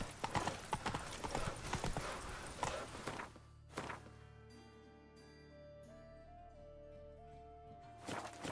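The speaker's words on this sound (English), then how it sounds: "Run, Roach." A horse gallops in The Witcher 3 with fast clip-clop hoofbeats over game ambience. The beats are busy for the first three seconds, then a thud is followed by quieter steady sound.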